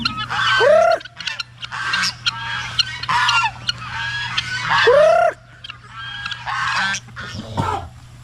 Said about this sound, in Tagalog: Yung mga gansa natin, oh, kahit saan saan naman sila magpunta.